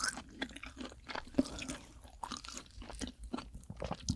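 Close-up chewing of raw king rock oysters, with wet squishy bites and crunchy, slurpy mouth sounds arriving in quick, irregular bursts, intimate and alone with no talk.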